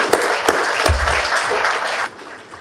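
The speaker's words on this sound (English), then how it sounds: "Big applause for you too." An audience at an aerospace forum in Casablanca applauds in a dense, steady burst of clapping that fades out near the end.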